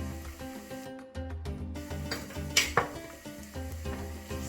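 Spoonfuls of paprika and cumin stirred into onions frying in a pan, with a sizzle running throughout and a few sharp metal scrapes and clinks of the spoon against the pan, up close.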